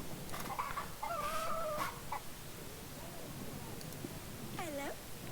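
A rooster crows in the video game Yes, Your Grace: a clear, rising and falling call early on, then a shorter, drooping crow near the end, over steady background ambience.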